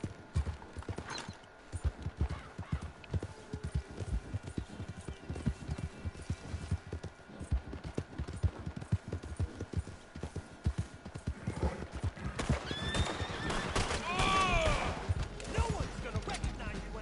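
Horse hooves clip-clop steadily in Red Dead Redemption II while riding through the Rockies, a loose trotting rhythm throughout with a brief whinny near the end and faint voices in the background.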